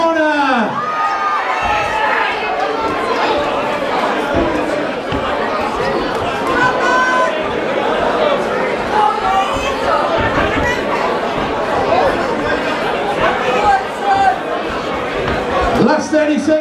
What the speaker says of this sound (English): hear plenty of shouting from different people